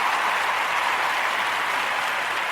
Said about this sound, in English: Yes, let me give him a round of applause.